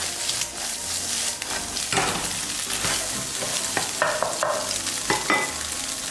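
Eggs stir-fried in a hot pan with chili and salt sizzle steadily and loudly, with a spatula scraping and tossing in quick, irregular strokes throughout.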